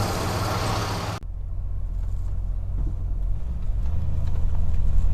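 An old car with a hesitating carburetor and a recently repaired choke coil pulls away and drives, its engine a steady low rumble that swells slightly as it goes, after a brief loud burst at the start.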